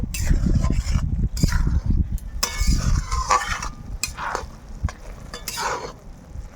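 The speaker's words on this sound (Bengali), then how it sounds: "আমি নেড়ে চেড়ে এইভাবে পাক দিয়ে নেব" Boondi is stirred in sugar syrup in a pan, with a spoon scraping and clinking against the metal in irregular bursts, close and moderately loud, with no talking.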